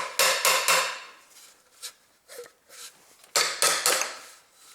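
Sharp metallic hammer blows on a loose heat shield of a BMW N43/N45/N46 engine land in quick clusters, a few strikes at a time with pauses between, close and ringing.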